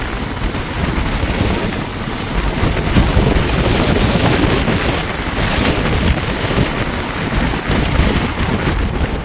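Heavy wind roar buffeting the microphone beside a Vande Bharat train rushing past at high speed near Dindigul station, loud, dense and continuous with no let-up.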